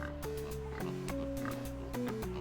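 Pigs in the DOS adventure game Downunder Dan give a string of electronic oinks against shifting sustained tones, evenly loud with a regular stepping rhythm.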